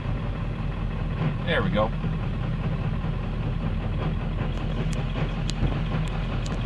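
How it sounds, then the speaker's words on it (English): A 7.3 Powerstroke diesel engine running a Minotaur software tune idles with a steady, even low drone, while someone speaks briefly over it. "As you noticed, it's idling smooth."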